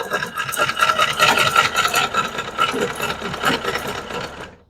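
A manual sewing machine runs continuously while stitching fabric, a loud, close, steady rattling whir that slows and stops at the end.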